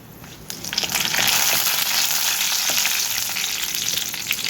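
Curry leaves and garlic fry in hot oil in a pan for gongura dal, a loud steady crackling sizzle that swells in and holds close throughout.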